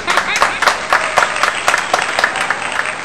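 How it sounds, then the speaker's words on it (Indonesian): An audience claps and applauds steadily and fairly close for about three seconds, with dense, sharp hand claps sustained throughout and no break in the sound. "Kasih tepuk tangan semuanya."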